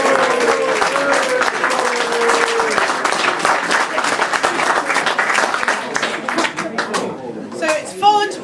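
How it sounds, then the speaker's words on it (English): Audience applauding the Hope Street Choir at a Christmas gathering in Grimsby: sustained, crowded clapping for about seven seconds, then tapering off as chatter and a few stray claps remain. "big round of applause for the Hope Street Choir"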